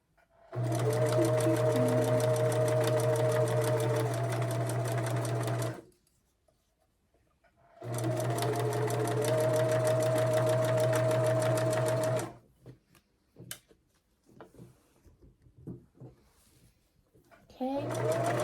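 Sewing machine chain-piecing quilt pieces, two long loud runs of fast steady humming stitching, each several seconds, separated by a pause, then quieter handling clicks and a brief voice.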